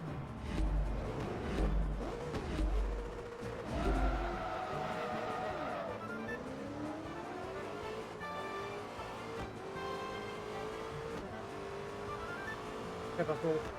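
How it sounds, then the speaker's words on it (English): A BMW race car in Forza Motorsport 3 revs and shifts, its engine note climbing and falling, with tire squeal and skids early on and a person talking over it. "funny BMW, go burr."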